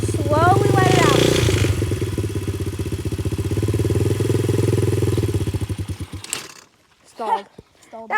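A 125cc dirtbike engine chugs with rapid low firing pulses as the clutch is let out, then sputters and stalls into near silence. A voice is heard briefly at the start.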